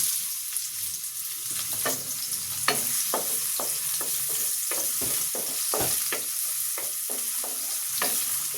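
Onion sizzles in hot oil in a wok, a steady frying hiss broken by repeated sharp scrapes and taps of a stirring spoon.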